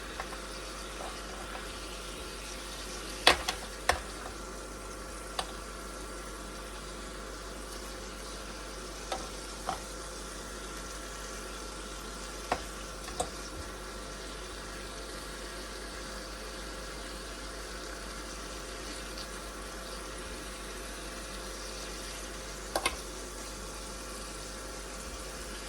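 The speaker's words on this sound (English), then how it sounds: "we'll turn the meat over, slowly cooking away" Meat slowly frying in a pan gives a faint, steady sizzle with a few sharp pops and crackles scattered through, alone without talk.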